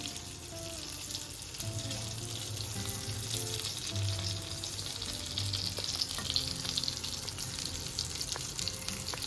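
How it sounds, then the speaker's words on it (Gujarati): Stuffed bell peppers (Bharwa Shimla Mirch) sizzle steadily in a pan over a medium gas flame, a continuous close frying crackle with occasional soft stirring or shifting sounds and no talk. "ત્યાર પછી હવે આપણે એને બીજી બાજુ ફેરવીને પણ શેકી લઈશું."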